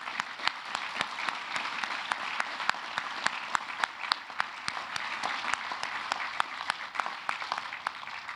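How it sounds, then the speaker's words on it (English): A hospital naming ceremony's audience gives steady applause, with individual sharp claps standing out clearly from the continuous patter. The sound is moderately quiet and sustained throughout. "Well, I'm going to give them a round of applause."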